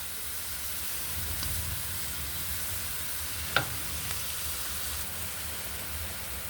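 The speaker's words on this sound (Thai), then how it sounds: "ผัดให้เข้ากัน" Stir-fry in a pan with oyster sauce and seasoning gives a steady, even sizzle from start to finish, broken once by a sharp clack of utensil against pan near the middle. No one speaks.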